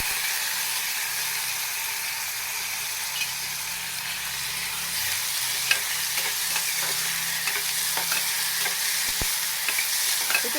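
Chopped onion, curry leaves and tomato frying in hot oil for upma, a steady close sizzle with scraping ladle strokes and small clinks of stirring, no talking.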